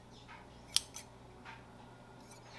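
Scissors snip thread cut to arm's length for quilting, a few quiet, crisp clicks spaced irregularly against a soft, steady background hum.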